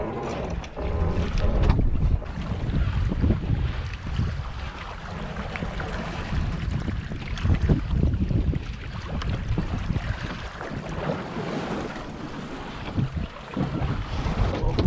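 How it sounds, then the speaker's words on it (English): Steady wind roars across the microphone while a Scamp dinghy sails along at sea, with the rush of water against the hull underneath; the noise is loud and continuous throughout, and no one speaks. "Wind hasn't dropped off yet, which is really handy."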